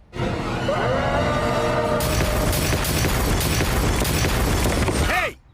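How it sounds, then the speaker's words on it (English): A plasma grenade explodes in a Gumball video game scene: tonal sounds and voices come first, then a loud, sustained roaring blast that fills the middle and end before cutting off sharply. "Plasma grenade."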